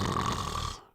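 A cartoon maid lets out one loud, rasping snore that holds steady, then cuts off abruptly near the end.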